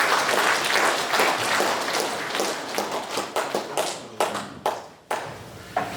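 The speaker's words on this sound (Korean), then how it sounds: "박수 한번 보내주십시오." An audience at a Korean memorial ceremony applauds a five-member music ensemble, a dense burst of clapping that thins into scattered, separate claps toward the end.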